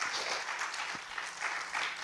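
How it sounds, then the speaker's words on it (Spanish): A church congregation applauds during a Spanish-language sermon, a brief, steady burst of many hands clapping at moderate distance with no voices over it. "¿Cuánto puede dar un aplauso al Señor?"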